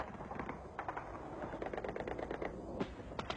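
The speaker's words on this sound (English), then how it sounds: "Flak narrowly misses a swooping Su-25." Anti-aircraft flak fire aimed at a swooping Su-25 jet in Afghanistan: rapid, continuous crackling bursts of gunfire, fairly distant and muffled, over a dense rumbling wash of background noise.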